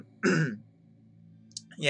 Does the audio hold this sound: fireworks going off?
no